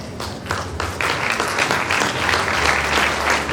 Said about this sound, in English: Please, with a resounding applause